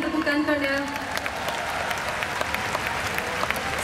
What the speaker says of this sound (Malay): Boleh tak kita berikan tepukan kepada mak saya?